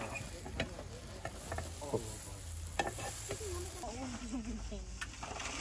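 Utensil scraping and stirring a mixture in a pot at a car camping breakfast outdoors, with soft irregular clinks and scrapes against light sizzling, and voices talking nearby.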